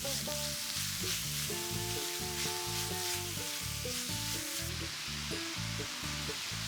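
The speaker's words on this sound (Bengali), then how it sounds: "নুনের যে পরিমাণ ওয়েবসাইটে বলা আছে তার অর্ধেকটা দিয়ে বিটটা নাড়াচাড়া করে ঢাকা দিয়ে রাখবে।" Grated beetroot with salt frying in a pan, a loud close sizzle broken by the rhythmic scrape and clatter of stirring, with no one talking.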